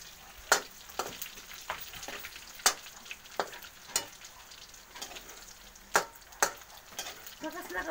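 Food frying in a pan makes a soft continuous sizzle with sharp crackles and spatters popping out irregularly, fairly quiet and close.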